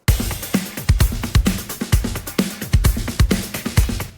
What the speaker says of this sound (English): this is a drum loop, actually, run through a bit crusher as well as a flanger